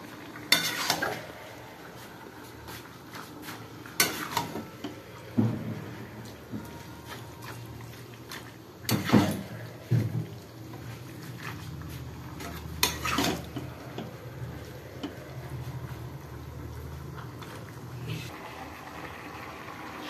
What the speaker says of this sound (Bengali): হলুদ দিয়ে এটাকে ভালো করে কষাতে হবে।